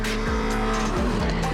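A drift car at a drifting competition slides along a wall with a loud, continuous engine roar and tire squeal, overlaid by brief swooping rubbing sounds as it rides the barrier.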